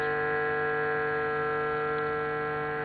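Background low-frequency magnetic field in a garden, including 50 Hz domestic electricity, made audible through a gaussmeter as a steady, unbroken electrical mains hum with a faint static edge throughout.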